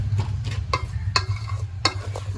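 Onions with salt are stirred in a pan, a spoon scraping and clacking in four or five distinct strokes over a soft, continuous sizzle, close and moderately loud, with no talk.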